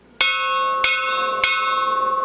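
A Catholic church bell in Saltillo, Mexico rings out three times at steady intervals, each strike clear and resonant, its tone lingering and humming between strokes.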